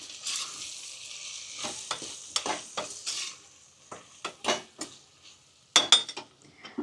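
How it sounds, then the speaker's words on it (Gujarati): A spoon stirs spices into Maggi rice frying in a pan, giving a series of close scraping strokes and clinks against the metal over a soft sizzle. "હવે આપણે આ બધું મિક્સ કરી લઈએ."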